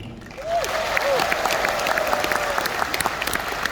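Sustained crowd applause at a Gerindra party anniversary rally, a dense wash of clapping from a large audience that swells and holds steady, with a voice briefly rising over it near the start.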